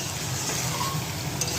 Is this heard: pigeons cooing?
no